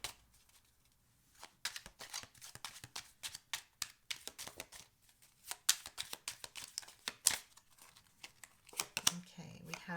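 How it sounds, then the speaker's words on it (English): Tarot cards being shuffled and drawn from a deck, a quick series of crisp close riffles and flicks in irregular bursts, with a brief rustle at the end. "I'm also going to pull further clarifications on the cards"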